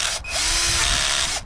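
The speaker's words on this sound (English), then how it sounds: "So I've managed to drill through the first layer." A power drill with its clutch set low bores through the valve hole of an aluminium mountain bike rim, giving a loud, steady whining grind for over a second up close before cutting off.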